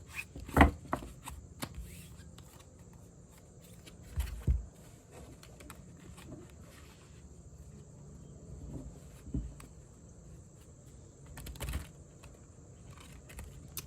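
Tarot cards are shuffled in a quiet room, giving faint, scattered rubs and soft clicks with a few slightly louder snaps spread across the stretch.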